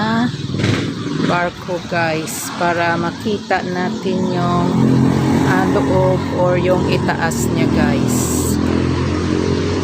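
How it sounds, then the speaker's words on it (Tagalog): A passing motorcycle's engine drones loudly near a ship beside a swimming pool, its noise building and holding under someone talking throughout. "pasensya na kayo sa ingay ng motor na dumadaan guys"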